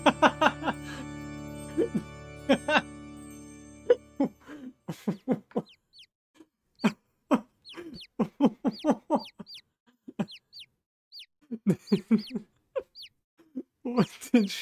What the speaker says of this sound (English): Where are those baby chickens coming from?